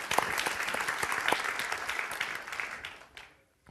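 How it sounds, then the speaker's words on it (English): Applause from the audience at a true-crime investigator panel, a burst of many hands clapping with scattered sharp claps standing out, gradually thinning and fading to near silence at the end. "I think that applause is way overdue"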